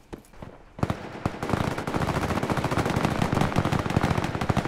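Rapid automatic gunfire in a Roblox shooting game, a few scattered shots followed by a dense, sustained burst of loud cracking rounds firing continuously to the end.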